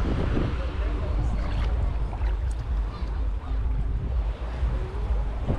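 Sea waves wash steadily onto the beach at Playa del Carmen, a continuous loud roar of surf with no pauses.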